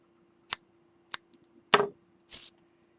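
Scissors snip off a yarn tail during needlework on an Algerian eye stitch, heard as a few crisp, close clicks and short snips spaced apart against a faint steady hum.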